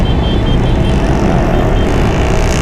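A Honda CBR 150 motorcycle fitted with a racing exhaust, its engine a loud, steady, rough drone held at close range throughout with no speech.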